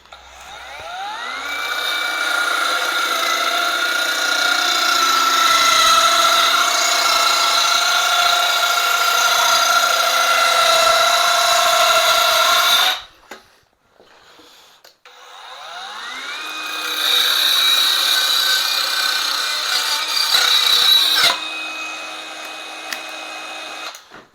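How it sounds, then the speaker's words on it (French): An Erbauer 12V cordless saw spins up and cuts wood in two long whining bursts of about twelve and six seconds, separated by a short quiet pause, loud and close. "C'est tout ce que je peux vous proposer avec cette scie."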